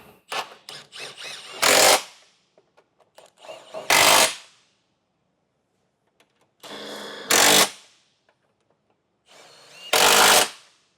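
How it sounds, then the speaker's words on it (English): A power tool with a socket drives nuts onto the bumper studs of a 2017 Mini Clubman while a Curt Class I trailer hitch is fitted. Four loud, close, roughly two-second whirring bursts, each preceded by light clicks of handling. "we can tighten those down with the same socket we used to take them off"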